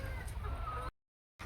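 Hens clucking in a poultry shed, a busy close chorus of short clucks over a steady low barn rumble, then a brief cut to silence before it resumes.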